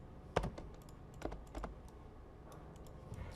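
A few short bursts of typing on a computer keyboard during 3D modeling work, close and crisp clicks in small clusters over quiet room tone.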